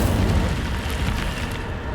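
An Incendio fire spell is cast in the Hogwarts Legacy video game, giving a loud, low rushing roar that holds steady for a couple of seconds, with no talking.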